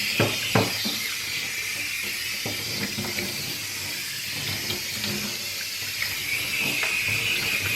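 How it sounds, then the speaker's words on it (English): Rinse Mate sprayer hissing a steady water stream while rinsing a Cavalier King Charles Spaniel in a bath, close and continuous with occasional light splashes and clicks. "I just hold the stream of water close to her side, and then I use my hand to get that water underneath her belly"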